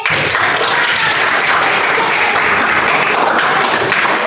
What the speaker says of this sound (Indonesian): Boleh tepuk tangan deh.